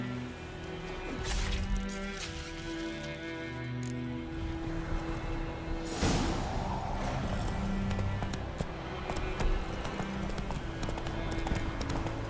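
A horse clip-clops along in The Witcher 3, its hooves beating a steady rhythmic trot over a continuous ambient game soundscape with occasional louder rustles.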